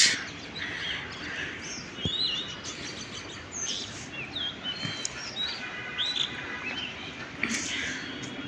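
A spotted dove chick calls from a windy rooftop, giving faint, scattered high chirps and tweets over a steady rush of wind and background noise.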